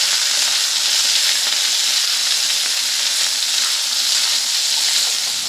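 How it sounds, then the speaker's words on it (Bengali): Soybean chunks fry in hot oil in a pan while being stirred, producing a loud, continuous, close sizzle that stays steady throughout with no talking. "নাড়াচাড়া করে সয়াবিনগুলোকে ভেজে নেব।"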